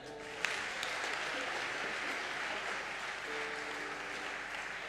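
A church congregation at a French-language worship service applauds in a steady, dense wash of clapping. It holds at a moderate, even level throughout, with faint voices and a sustained tone underneath.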